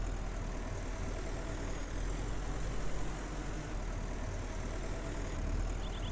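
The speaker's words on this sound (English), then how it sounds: "I'm just going to park the tractor and trailer right over here" A tractor hauling a trailer in the farming game Farmer's Dynasty drives with a steady low engine drone and broadband rumble, holding fairly constant loudness throughout with no talk.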